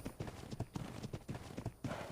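A horse in a video game trots with rhythmic hoof clip-clops, quick regular beats at moderate distance, fairly quiet, with no talk over them.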